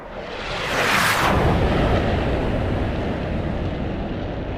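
Missiles launching from jet aircraft in the DCS combat flight simulator, a loud roaring whoosh that swells within the first second and then settles into a sustained rushing rumble.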